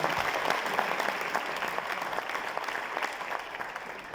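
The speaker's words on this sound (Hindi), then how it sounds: "Give yourself a round of applause, by the way, ladies and gentlemen" An indoor audience at a DXN company business gathering breaks into sustained applause, a dense, continuous clatter of many hands that holds steady at fairly high volume and eases slightly toward the end.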